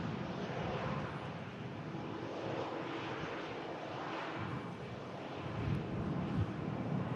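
A Tui airliner arriving from Ibiza at Manchester Airport makes a steady, fairly distant jet roar with some wind buffeting, swelling slightly near the end.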